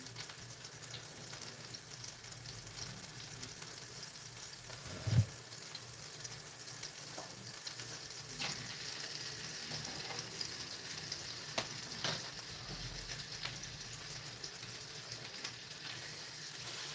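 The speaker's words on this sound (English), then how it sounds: "I always fry my hot dogs" Hot dogs frying in a pan, a steady soft sizzle running on with a few faint knocks and clicks, quiet and with no talking.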